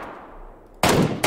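A loud, close burst of gunfire in the battle royale game PUBG cuts in sharply after a fading tail of an earlier shot, the gunshot ringing out for a fraction of a second.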